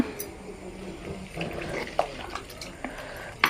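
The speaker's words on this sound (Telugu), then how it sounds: "నీళ్ళు అయితే పోసుకుందాం తగినన్ని" Water is poured into a clay pot for cooking chicken curry and rice over a wood fire, a soft continuous splashing trickle with a few light clinks, fairly quiet and close.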